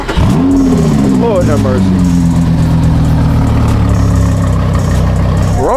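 Car with a Nissan VQ engine at a car meet, revving in loud rising and falling sweeps before settling into a rough, throbbing idle, with a man exclaiming over it.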